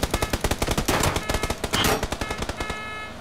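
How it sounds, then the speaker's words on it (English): Enemy gunfire in a PUBG match comes as rapid bursts of automatic shots, a fast rhythmic string of sharp cracks that pauses briefly and resumes before trailing off, close and loud, with no talking. "he was still shooting at me at this point"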